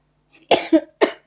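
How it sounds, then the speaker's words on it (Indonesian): Three quick coughs in a row, close and fairly loud, with short pauses between them and no talking. "jadi batuk"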